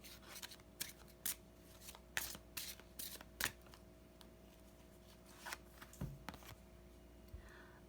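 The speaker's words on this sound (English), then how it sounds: "I'm just going to pick a random card for you." Tarot cards shuffled and drawn from a deck during a reading, a run of soft papery riffles and slides in short bursts close up, with quiet gaps between them and no talking.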